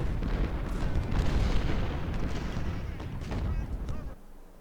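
Dense, rumbling artillery and massed gunfire roar through a battle in the video game Ultimate General Civil War, loud and sustained before cutting off abruptly near the end.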